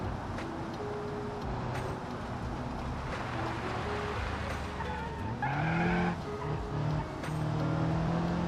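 Car in the BeamNG driving game sliding and skidding, a steady engine drone with tire squeals rising and bending midway, continuous and fairly loud with no talk.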